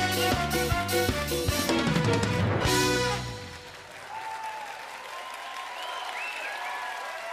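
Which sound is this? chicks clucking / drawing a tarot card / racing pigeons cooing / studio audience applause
studio audience applause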